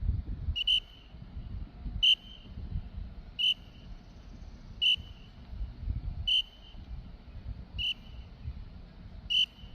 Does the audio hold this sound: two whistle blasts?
yes